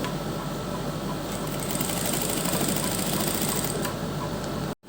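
A sewing machine runs continuously, stitching lace around the neckline edge of a gota-trimmed garment, a loud, even mechanical whir that stops abruptly at the very end.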